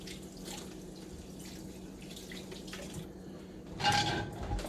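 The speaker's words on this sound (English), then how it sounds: "Washing my hands again." A tap runs softly into a sink while hands are washed in a home kitchen, faint trickling and drips with a brief louder splash near the end.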